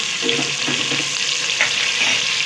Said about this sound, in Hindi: ये लहसुन अदरक का पेस्ट जो बनाया था वो डाल देना है भूनना है